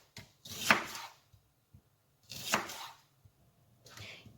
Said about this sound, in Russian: Лук я нарезаю достаточно крупными полукольцами